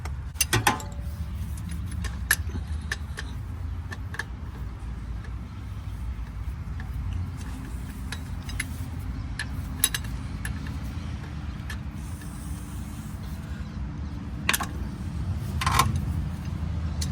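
A T70 Torx bit turns out the front differential drain plug on a Subaru Impreza, giving low mechanical grinding, faint ratcheting and scattered metallic clicks and taps over a steady hum.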